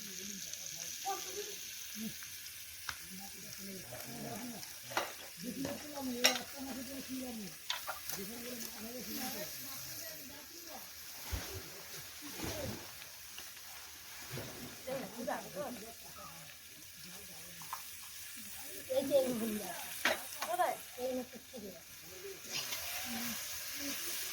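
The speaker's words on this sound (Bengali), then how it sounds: "কোড়ক চাপা ভাজা হচ্ছে" Kodok chapa fish frying over a wood-fired village stove, a soft hissing sizzle at moderate distance with stirring, partly under low voices talking nearby.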